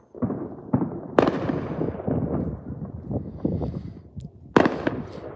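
New Year's Eve fireworks seen from a balcony: repeated booming bursts and crackles go off at irregular intervals over a steady rumbling background, with no talk.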